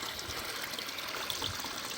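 Water pouring from a canister filter outlet just above the surface of a koi pond, a faint, steady trickle and splash heard alone.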